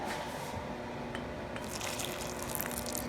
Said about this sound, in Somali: waa biyo karkaraya